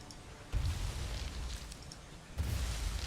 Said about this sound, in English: I have some more cliff explosive, and I'm going to just get rid of it